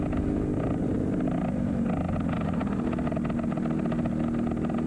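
Go-kart engines at a CKNA Grand Nationals Legends final, a continuous loud buzzing drone that stays close and steady throughout, with no speech.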